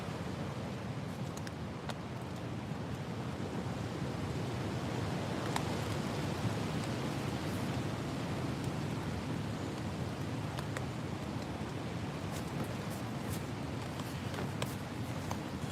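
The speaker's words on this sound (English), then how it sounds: "Really is windy." Steady wind blows and rumbles throughout during a storm at a tent campsite, a constant broad whoosh with occasional faint knocks, and no one speaks.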